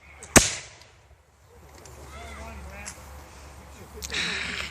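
A single sharp .69 caliber musket shot cracks out near the start during a Revolutionary War reenactment homestead raid, followed by distant shouting voices and outdoor bustle.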